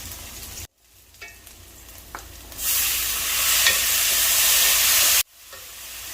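Onions frying in a pan, with a low sizzle at first that swells into a loud, steady hiss and crackle partway through, then cuts off sharply, heard close up with no talking.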